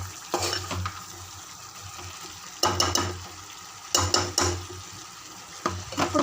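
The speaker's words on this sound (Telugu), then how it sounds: "ఈ మసాలా బాగా కలుపుకోవాలి." Masala is stirred and mixed into meat pieces in a pan, giving soft scraping and sizzling strokes in a few separate bursts, fairly close, with quiet cooking hiss between them and no talking.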